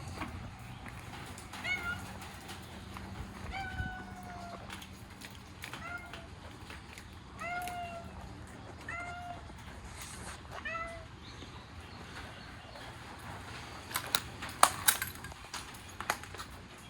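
A cat meows repeatedly, about eight short calls spaced a second or two apart, fairly close, followed by light clicks and rustling.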